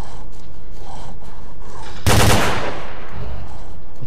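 Gunfire in the video game S.T.A.L.K.E.R.: Clear Sky: a loud, sudden burst of automatic shots erupts midway and rings out into a decaying roar, preceded by steady rhythmic game ambience.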